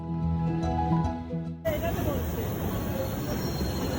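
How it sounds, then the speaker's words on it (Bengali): A New York subway train rumbling and rattling along the tracks, heard up close as a loud steady roar after a quieter opening with someone talking. "এই ট্রেনগুলো আমাদের দেশে অনেকটা মেট্রোর মতনই দেখতে"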